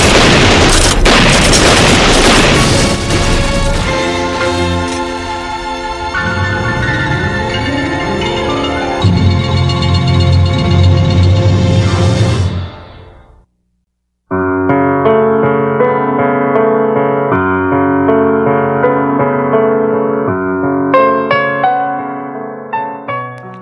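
Gunfire effect from an ambush scene in a Filipino radio drama: a loud, dense burst of shots and booms fills the first seconds, then gives way to dramatic music that breaks off briefly and resumes. No voices.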